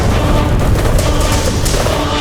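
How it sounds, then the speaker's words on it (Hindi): A burning armoury blows up in a loud, dense rumbling blast that rolls on with crackling bursts and debris throughout, with no calm between the booms. "वहां रखे समस्त दिव्य शस्त्र भयानक विस्फोट में भस्म हो गए।"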